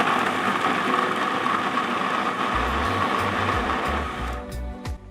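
A food processor chops garlic into a mince with a loud, steady whirring motor and rattling blade. The grinding shifts partway through, then winds down and stops near the end.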